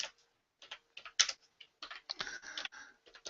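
Close, quiet tapping on a computer keyboard arrives in short irregular bursts of clicky keystrokes separated by brief pauses, with no voices.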